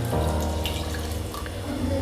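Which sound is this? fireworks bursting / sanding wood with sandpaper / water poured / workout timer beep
water poured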